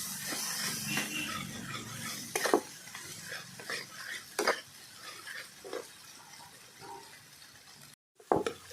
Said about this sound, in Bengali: ভালো করে আমি কষিয়ে নিলাম।